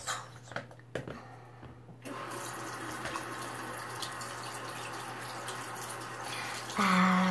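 Steady running water pours continuously to fill a bath, a loud even rush after a few seconds of quieter clatter, with a brief brighter splash near the end.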